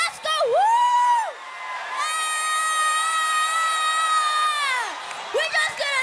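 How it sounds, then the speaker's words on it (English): A church congregation shouts, whoops and cheers in sustained high-pitched cries, one long voice holding a wavering tone over a lively crowd. "You just want to shout, you want to scream."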